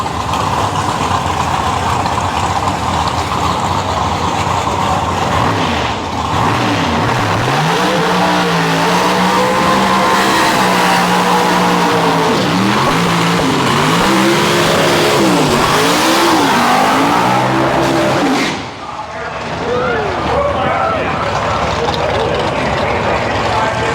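A car at the Tri Five Nationals classic car show in Bowling Green, Kentucky revs hard to heat its tires, a loud, close engine roar rising and falling in repeated swells, with tire squeal, before dropping off near the end.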